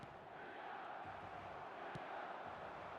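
An eFootball video game stadium crowd forms a steady, distant roar of murmuring fans that carries on without a lift in excitement, with one brief sharp knock partway through.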